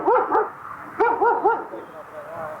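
A dog on a golf course barks in two quick bursts of sharp, close yaps, then trails off into softer whining yips, with no talking.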